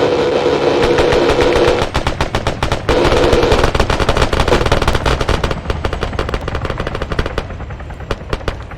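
Rapid automatic gunfire rattles in a military video game squad training session, dense bursts loud and close at first, then thinning into scattered single shots toward the end.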